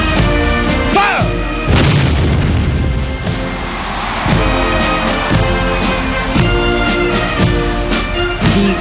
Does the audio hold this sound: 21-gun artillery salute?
yes